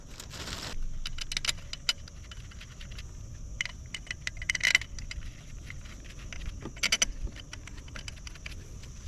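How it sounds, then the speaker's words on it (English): Metal bolts clinking and rattling as they are handled and set into the cylinder head of a Honda TRX500 Rubicon ATV engine, with scattered small jangles and sharp taps in a quiet workshop, no talking. "now that we got the head on, guys, we can go ahead and put the bolts in it"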